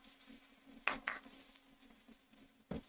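Spice mixture with onions stirred in a pan, a few sharp metallic scrapes and clinks of a utensil against the pan at irregular intervals, quiet and close.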